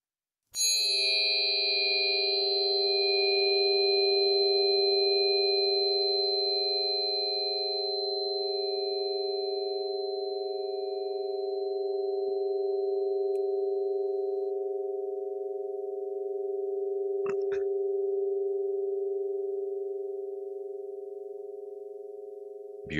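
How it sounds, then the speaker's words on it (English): Struck Solfeggio frequency tuning forks ring out in a pure, layered tone that sustains smoothly for over twenty seconds, with a bright chime fading early and a faint tap partway through. "this one is basically all of these double strike tuning forks combined together to make that sound"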